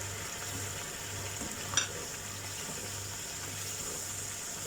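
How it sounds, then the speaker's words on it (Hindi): Dry masala spices for prawn masala, including coriander, cumin, chili, red chili powder, turmeric, salt and garam masala, sizzle and fry in a pan as a steady close hiss, with one brief clatter of stirring partway through. "अब इन मसालों को थोड़ा भूनना है।"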